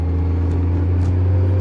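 A car passes a Kawasaki Z900 motorcycle on a wet road, a steady close engine drone with a low hum that swells faintly toward the end, heard from the rider's position.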